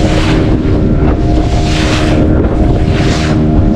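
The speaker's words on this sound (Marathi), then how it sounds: "बोट जी वेव्सवर उडते ना आपटते ना आहे बघा" A boat ride over sea waves at Malvan, with loud constant wind roar buffeting the microphone over a rumbling engine and rushing water, swelling and easing in waves.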